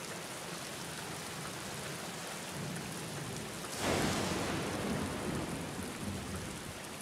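Rain in the video game The Black Mirror, a steady hiss of falling rain that swells into a louder, denser downpour about halfway through, with no voices.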